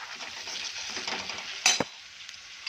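Stirring turmeric, salt and red chili powder into garlic thecha in a pan, a soft continuous scraping and light sizzle with one brief louder clink of a utensil partway through.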